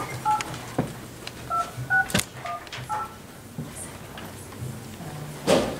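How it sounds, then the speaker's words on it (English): A telephone dials into a borough council meeting, a string of short paired keypad beeps close by, broken by a few soft knocks and thuds in the room. "We're getting Larry's here on the phone."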